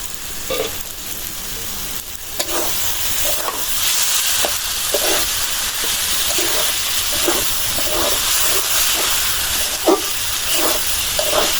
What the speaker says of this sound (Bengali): কম জলে ভাজতেছি তো ভাজিটা